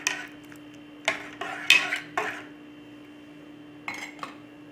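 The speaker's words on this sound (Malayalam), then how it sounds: "ഒന്ന് ഇളക്കി കൊടുക്കുക." A spoon stirs coffee powder into dry ginger coffee in a pot with the flame off, a handful of separate metallic scrapes and clinks against the vessel, close-up over a low steady hum.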